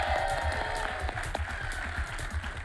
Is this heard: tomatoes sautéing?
no